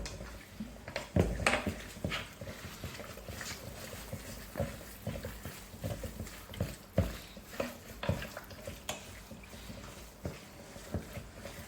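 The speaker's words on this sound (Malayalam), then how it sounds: "ഇതെല്ലാം കൂടെ ഒന്ന് നല്ലതായിട്ട് മിക്സ് ചെയ്യാം." Tapioca and beef with spices and marinade are mixed together, making a run of soft, wet, rhythmic thumps and squelches that repeat steadily at close range.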